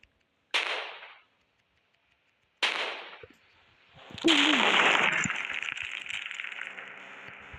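Gunfire in an Indian bike driving video game: two crisp, separate shots a couple of seconds apart, followed by a louder burst that trails into a lingering noisy tail.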